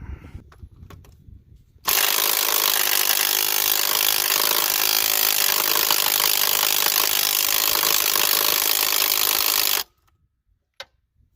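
A 3/4 socket works on a rusted crankshaft bolt of a Nissan 2.5 engine, making a loud, continuous grinding, rasping mechanical noise that runs steadily for about eight seconds before stopping abruptly, with faint clatter before and after.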